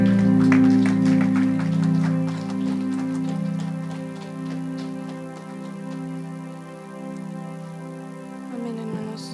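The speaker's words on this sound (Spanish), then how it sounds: "Démosle un aplauso al Señor, amada iglesia," A church congregation claps at a Christmas Sunday service, a dense crackling patter of hands spread under steady sustained keyboard music that fades toward the end.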